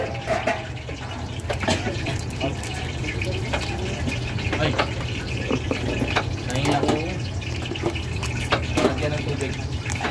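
Water pouring into a container in a household kitchen, a steady running splash that continues throughout, with people talking over it.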